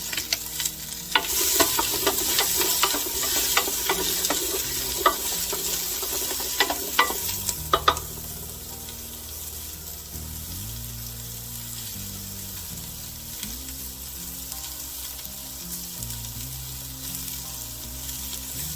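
Onions frying in a pan for a Puerto Rican chicken stew, with garlic and sofrito going in: sizzling with stirring scrapes and clatter for the first eight seconds, then a steadier, softer sizzle continues alone.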